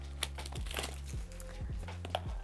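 Scissors cutting open the plastic packaging of a trading card box, several crinkling snips and rustles of wrapping close by, with a faint background hum.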